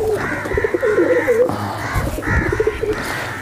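High flyer pigeons cooing in a loft, repeated low warbling coos in close succession, near and clear over a steady background murmur.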